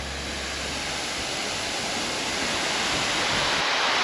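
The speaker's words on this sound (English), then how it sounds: "It's creating a lot of wind, the waterfall is, and every time I get close, it just pushes me away." A waterfall at Boundary Dam campground in Washington roars in a loud, steady, unbroken wash of noise that fills the whole scene, with no voices.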